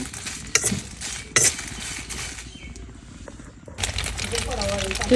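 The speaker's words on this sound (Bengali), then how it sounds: "আমি ডিম ভাজতেছি ছোটো ছোটো করে" Eggs fried in small pieces in a home kitchen pan, a steady sizzle with scraping and utensil clatter, loud stirring knocks near the start, and voices mixed in.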